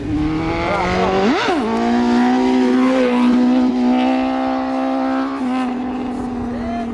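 Yamaha XJ6 motorcycle revving hard with a rising then held engine whine as it rides up on its rear wheel, loud and sustained throughout.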